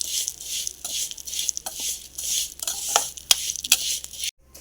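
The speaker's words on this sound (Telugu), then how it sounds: "సిమ్లో పెట్టుకొని బాగా ఫ్రై చేసుకోవాలి" Vermicelli (semiya) fries on a low flame for payasam while a spoon scrapes and stirs the pan, giving a soft continuous sizzle broken by repeated close clinks and scrapes of metal.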